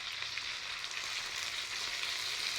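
Oil sizzling steadily in a pan as ingredients fry for chili karam, a hot red chili condiment from Rayalaseema, with a continuous bright hiss and crackle and no voices.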